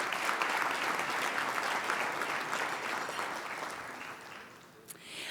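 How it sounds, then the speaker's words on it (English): A hall audience at the Gandhi Peace Awards gives dignitaries a big round of applause, dense steady clapping that holds for several seconds, then tapers off. "Please, a big round of applause for all of our dignitaries."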